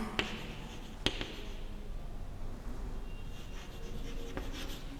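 Chalk or a marker scratches and scrapes steadily across a classroom board while a sentence is written. A few sharp taps stand out from the continuous close scribbling, and no one talks.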